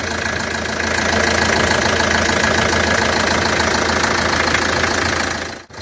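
A van's small diesel engine idles close by with a steady, dense rumble and a faint knocking texture, holding constant for several seconds before cutting off abruptly. No voices.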